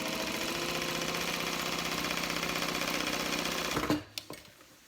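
A sewing machine runs steadily while top stitching a fabric bag, a loud close rapid whir that stops near the end, followed by a few light clicks.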